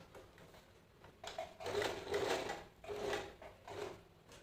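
Sewing machine slowly stitching around the edge of a two-layer frock, running in a few short bursts with brief pauses between them, close and moderately loud.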